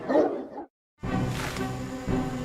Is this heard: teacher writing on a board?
no